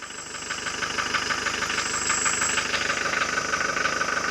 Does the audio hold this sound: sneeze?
no